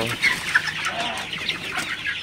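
Sonali super hybrid chickens in a farm shed give soft, overlapping clucks and short calls, a quiet flock murmur with no talking.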